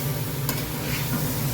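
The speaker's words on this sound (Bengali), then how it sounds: "এটা দিয়েই নাড়িয়ে চাড়িয়ে ভেজে নেবো" Potatoes and tomato frying in a pan and turned with tongs, an even close sizzle with a faint scrape of stirring, no one talking.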